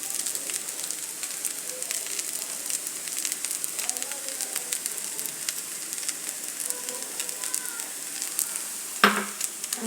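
Egg chow mein sizzles steadily in a hot pan as soy sauce is poured in, giving a close, continuous crackle, with a short clatter near the end.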